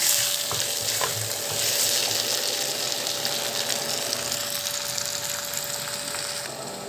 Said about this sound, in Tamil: இது நல்லா கொஞ்சம் எண்ணெயில் ஆயிலில் அது வரைக்கும் நம்ம கிளறி கொடுக்கலாம்.